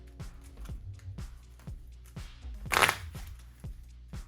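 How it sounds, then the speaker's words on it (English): A deck of Pokemon TCG cards shuffled by hand at close range, a quick regular run of soft flicks with one louder riffling burst midway. "So we're just going to quickly shuffle this up"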